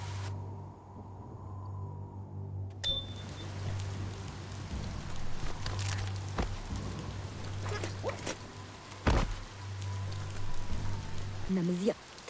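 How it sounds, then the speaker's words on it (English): Rain in the video game Biomutant, a continuous hiss of falling rain under a low ambient hum, with a few sharp clicks and a brief voice near the end. "Might want to look for shelter from the rain."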